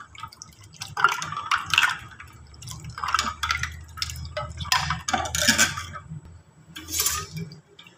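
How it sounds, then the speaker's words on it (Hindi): Ice pieces dropping into a glass for a cold drink, several separate clinks and splashy drips spread over a few seconds, close and moderately loud, with no talking. "इसमें डालते हैं बर्फ़"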